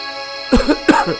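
Two short, harsh coughs close by, one after the other, over a faint steady background hum.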